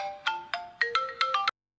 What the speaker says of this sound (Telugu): అక్క ఫోన్ చేస్తుందేంటి?